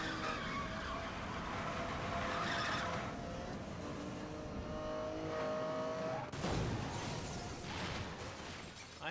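A car in Need for Speed: Most Wanted firing its nitrous boost: a sustained engine roar with squealing tires and a sharp surge partway through, loud and continuous.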